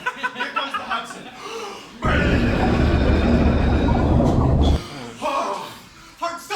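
Train rumbling through a tunnel on a newly opened line under the Hudson, a loud steady roar that surges in for a few seconds between stretches of chatter and laughter from a comedy-show audience.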